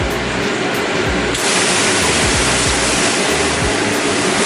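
Water splashes onto a hot oven tray to raise steam for baking bread, a loud, steady broadband hiss and rush that swells stronger after the first second and keeps going throughout.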